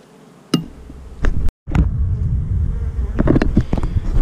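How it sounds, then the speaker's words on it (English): Dense, loud buzzing of honeybees crowding around a hive used for queen rearing, a steady close drone with a brief dropout partway through and some bumps and knocks. "Boy, the bees are pumping up"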